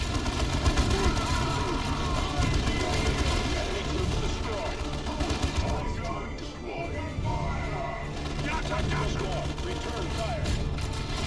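Sustained gunfire and artillery from the Warhammer 40k Dawn of War II battle, with dense rattling volleys and booming blasts running continuously and loudly throughout, overlaid by voices.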